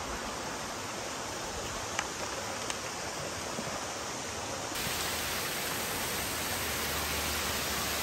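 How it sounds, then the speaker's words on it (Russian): A mountain waterfall roars steadily, a dense wash of broadband rushing water close by with no talk, the sound growing fuller and louder partway through. "Вот такой красивый водопад."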